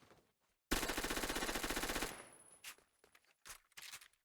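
P90 with a 30-round Civi Mag in Roblox Phantom Forces, a loud rapid full-auto burst of about a second and a half, followed by several quick mechanical reload clicks and clacks.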